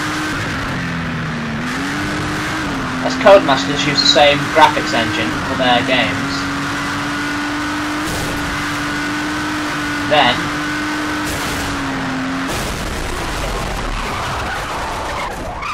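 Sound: car driving and skidding in a racing video game

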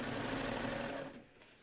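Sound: serger sewing a four-thread stretch stitch along fabric edge

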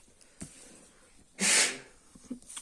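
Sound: sneeze

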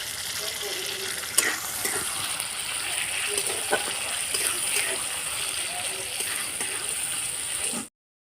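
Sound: bowl-rinsing water poured into cooking curry

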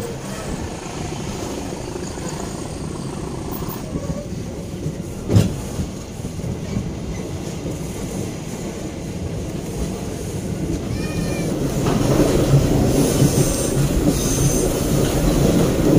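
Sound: local passenger train departing station

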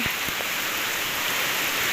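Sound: rain falling

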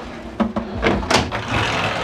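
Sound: sliding cabinet door on cruise ship cabin

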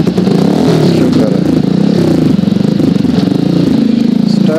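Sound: motorcycle engine running after starting

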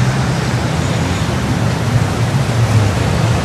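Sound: fountains splashing in the background

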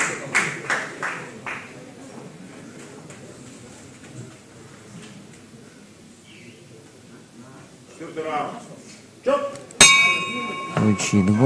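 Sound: boxing round gong

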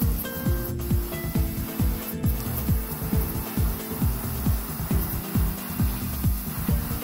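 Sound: spray painting a homemade fishing lure

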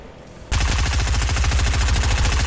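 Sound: SMG gunfire in the video game Fortnite

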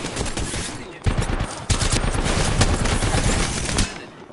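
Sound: gunfire in Apex Legends video game

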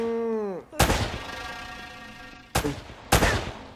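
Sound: gunfire in the video game Uncharted: Drake's Fortune

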